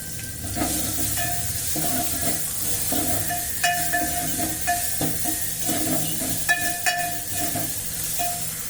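Curry leaves and chopped onion sizzle in hot oil for masala varan, a steady frying hiss with recurring spoon scrapes and stirring taps against the pan, close and without talk.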